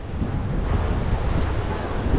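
Open-sea waves and wind around a fishing boat in the West Philippine Sea, between Lubang and Ambil Island, make a loud continuous roar with heavy wind buffeting on the microphone.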